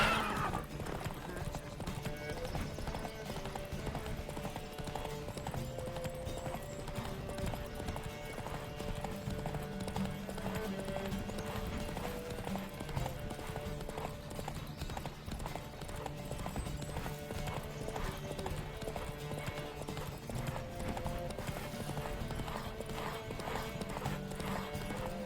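Galloping horse in The Witcher 3: Wild Hunt, a steady rapid clip-clop of hooves with an occasional whinny, running continuously under a layered orchestral game score.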